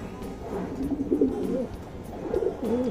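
Racing pigeons cooing in a loft, several soft throaty coos in short rolling phrases, moderately close over faint background noise.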